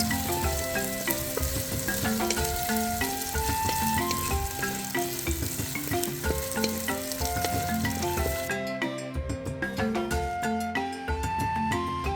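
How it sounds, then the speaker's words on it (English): Sausages fry in hot oil in a Ghanaian village kitchen with a steady, dense sizzle and crackle, continuous and close, with no voices. "we pour in more oil and fry our sausages"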